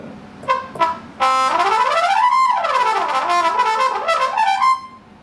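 A Korg Kaossilator Pro synthesizer plays an acoustic vibraphone-like preset, bright bell-toned notes in quick runs that sweep up and down in pitch, close and fairly loud, with no talking.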